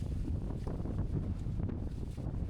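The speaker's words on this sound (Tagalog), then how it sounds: "malakas na hangin" Strong wind rushes on a beach in Boracay, a steady, loud roar buffeting the microphone throughout with no clear pauses.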